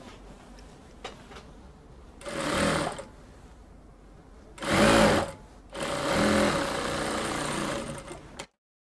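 A sewing machine stitches a dress seam in three loud, close motor runs, the last one longest, separated by brief quiet pauses.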